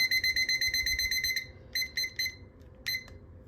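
A kitchen timer beeps in rapid repeated bursts while sourdough bakes, then sounds a few scattered, separated beeps before falling quiet, fairly loud over a soft room hum.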